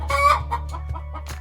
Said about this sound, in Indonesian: Ayam cemani bahasa Inggrisnya cemani chicken.